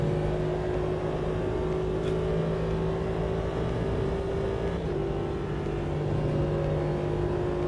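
A steady, droning race car engine in the video game Automobilista 2 holds a constant pitch with slight shifts, continuous and fairly loud, with no voices.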